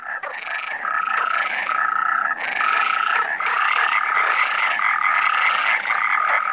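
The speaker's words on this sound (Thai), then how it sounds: "สีสันของดอกไม้ถูกทำให้โดดเด่นโดยเสียงเรียกหาคู่ของพวกกบ" European tree frogs call in a dense, continuous chorus at night in spring woodland near Valencia, rapid pulsing croaks overlapping loud and close, with no talk.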